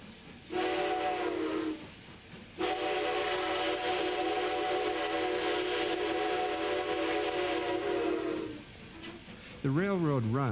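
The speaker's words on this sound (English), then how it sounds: "Skagway's White Pass and Yukon Railway still maintains a steam locomotive" A White Pass and Yukon Railway narrow-gauge steam locomotive's whistle sounds in long, steady blasts over a constant hiss, pausing briefly between them, before a wavering tone rises near the end, in Skagway, Alaska.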